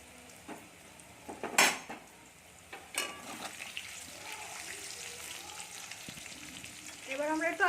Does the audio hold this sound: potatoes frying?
yes